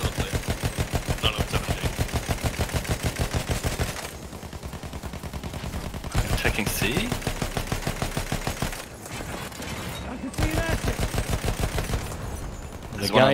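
A bomber's rear gunner fires a machine gun in Battlefield 1, sending out rapid, evenly spaced bursts of loud, close shots broken by short pauses, with a voice speaking briefly between volleys.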